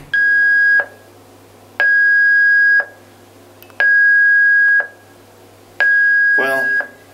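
The external fire-department alarm of a 1958 Ameco-Hamar wooden elevator in a Norwegian public hall sounds four steady, loud electronic tones, each about a second long and evenly spaced, with a faint click near the end.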